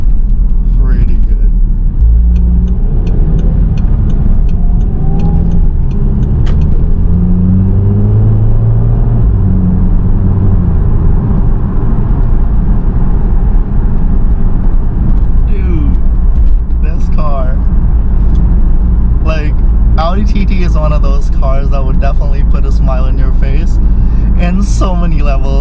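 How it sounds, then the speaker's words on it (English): Audi TT MK2 on lowered H&R springs, engine droning and turbo spooling steadily while driving, a close continuous rumble beneath someone talking. "because of like the turbo spools and how solid that sound is"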